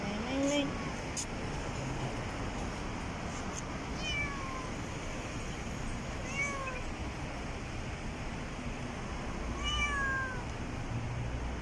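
Several thin, high kitten meows spaced apart over steady background noise, faint to moderate, with no clear talking.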